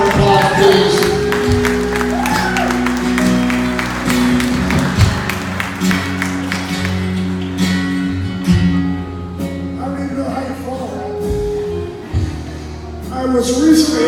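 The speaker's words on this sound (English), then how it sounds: "Give them a big round of applause, please." Audience applause and cheering honoring TMR for caring for veterans, at a hometown hero motorcycle makeover event; a steady, loud wash of clapping runs throughout, with music or a PA hum underneath.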